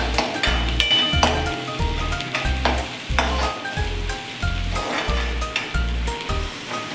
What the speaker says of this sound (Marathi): आता हे छान असे परतून घेऊया तेलामध्ये